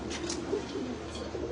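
Racing pigeons in a loft give soft, low cooing calls in a steady murmur, faint and close, with no one talking.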